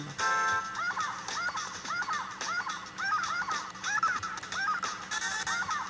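A seagull in the video game Glover calls out in a repeated honking, squawking pattern over a backing of game music, each call short and evenly spaced.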